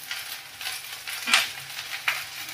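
Mixed vegetables for a Santali sabji sizzle in a pan while a spoon scrapes and stirs, leaving short clatters over a steady frying hiss.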